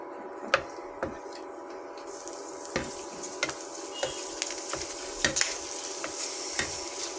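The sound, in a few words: papad frying and puffing in hot oil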